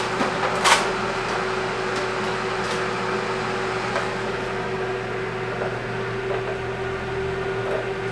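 A food dehydrator blower drying herbs runs as a steady, even hum with a whirring tone, close and unbroken, with one faint click early on.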